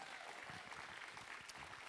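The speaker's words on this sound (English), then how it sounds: "applause for the nominees" A distant, faint wash of audience clapping for award nominees at a grand finale event, steady and continuous throughout.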